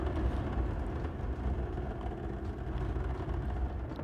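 Spaceship engines rumbling through a city in the video game Star Citizen: a low, continuous, fairly quiet engine drone with a slightly wavering texture.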